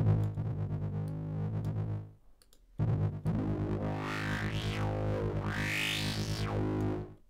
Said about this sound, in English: Let's go with the regular distortion.